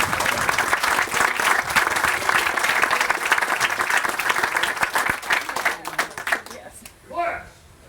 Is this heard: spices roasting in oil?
no